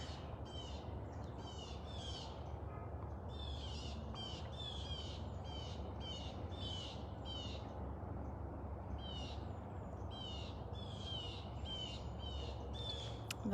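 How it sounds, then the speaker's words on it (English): Repeated bird calls ring out outdoors in steady bursts over a constant low background rumble, moderately distant. "The birds are very active this morning too."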